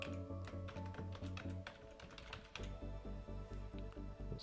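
Rapid, steady keystrokes on a computer keyboard entering a password, close and fairly quiet, with a brief pause midway before the typing resumes.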